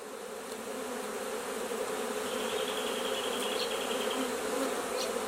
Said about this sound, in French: Donc là on est dans le cœur de la ruche